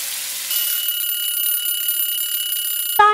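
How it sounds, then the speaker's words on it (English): An oven timer alarm rings steadily for a few seconds, a loud, continuous high electronic tone, then cuts off into a short chime at the end. "10 minutes timer."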